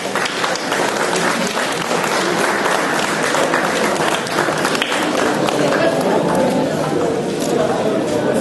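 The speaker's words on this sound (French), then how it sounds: "et on peut les applaudir" A crowd claps loudly and continuously at a comic book festival award ceremony as winners are called to the stage. The applause is dense and even throughout, with some chatter mixed in.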